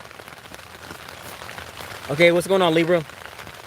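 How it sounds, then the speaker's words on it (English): Steady rain falls outside during an indoor tarot card reading, a soft continuous patter running underneath throughout while someone speaks briefly near the end. "it's raining and I don't want to compete with the rain"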